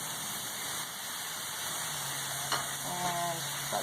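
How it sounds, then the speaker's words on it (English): Rice frying in butter in a pan makes a faint, steady sizzle with a light stir or clink near the end; no one speaks. "I'm going to put the rice down."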